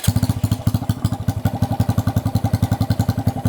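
Honda Grom motorcycle fitted with a T-Bolt cam firing up and settling into a lumpy idle, rapid thumping exhaust pulses close and moderately loud, with no talking.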